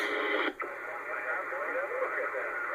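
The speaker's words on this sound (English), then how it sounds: "Again, to go to AM, and you're just looking at static." Steady hiss of static on a CB radio's AM band, broad and even, with a brief dip near the start before the noise resumes.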